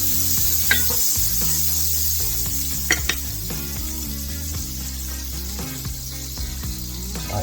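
Food sizzles and simmers steadily in a pan, a continuous frying hiss with occasional utensil clinks and stirring scrapes against the pan, close and moderately loud with no talking.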